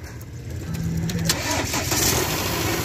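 A car engine catches and runs after a jump-start from another battery, a steady close mid-pitched rumble settling into idle for a few seconds with no talk.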